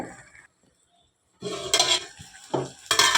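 Okra curry with salt and chili powder cooks in a pan on low heat. After a short quiet spell, bursts of spoon stirring and scraping mix with a soft sizzle, close and clear, with no talking.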